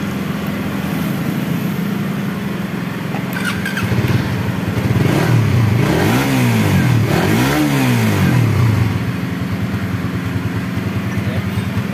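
A fuel-injected Suzuki Satria F motorcycle engine idles steadily, then gets revved twice in quick rising and falling bursts before settling back to idle, close and fairly loud.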